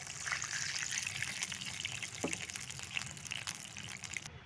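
Water pours steadily into a cooking pan for rava kesari, at twice the volume of the half kilo of semolina. It makes a continuous close trickling gush with no talking.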